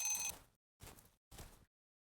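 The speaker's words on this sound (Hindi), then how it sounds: "तभी अचानक उसका फोन बजा।" Three short bursts of a phone ringing, evenly spaced with silent gaps between them, heard alone and fairly faint during a late-night walk.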